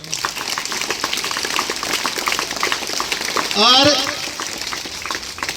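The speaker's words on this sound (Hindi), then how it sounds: "एक बार मैं चाहता हूँ कि उन दोनों बच्चों के लिए ताली बजाओ आप।" School audience applauding two children at an academy event, a dense patter of many hands clapping throughout, with a brief voice-like tonal sweep partway through.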